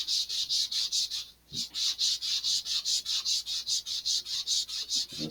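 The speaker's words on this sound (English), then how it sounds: "Sand away." Sandpaper works a fin on an Estes Black Brant XII model rocket in quick, even back-and-forth strokes, loud and close, with one short pause early on before the rhythm resumes.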